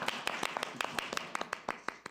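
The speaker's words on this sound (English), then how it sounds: "give him a round of applause" Audience at a city council meeting giving a guest a brief round of applause, sparse distinct handclaps from a small crowd, fairly close and moderately soft, lasting about two seconds.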